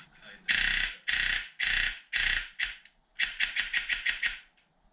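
An airsoft gun fitted with an XORTECH MOSFET and powered by an 11.1 V LiPo battery fires up close: five long, buzzing full-auto bursts, then a rapid string of sharp individual shots.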